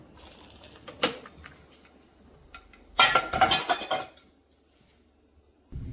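Chicken kappa stew is stirred in a pot, giving sparse clinks and scraping clatters of a utensil against metal in two short bursts and a final knock, over a quiet background with faint birds.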